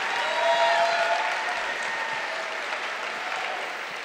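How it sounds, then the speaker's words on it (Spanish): An audience at a fifth-anniversary event breaks into applause, a dense, steady wash of clapping that swells early and then holds at a fairly even level for several seconds. "¡El aplauso!"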